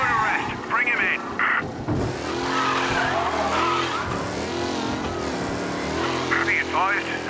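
A speeding car in Mafia Definitive Edition racing through Chinatown during a police pursuit: a steady engine roar with repeated tire squeals and skids, loud and close, continuing for the whole stretch.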